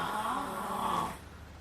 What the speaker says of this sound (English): The snoring noise is